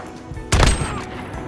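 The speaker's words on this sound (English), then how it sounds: "I love the gunfire in games" A single gunshot blast in Call of Duty Modern Warfare, loud and close, with a sharp broadband crack and a short booming tail that fades over half a second above a steady game background.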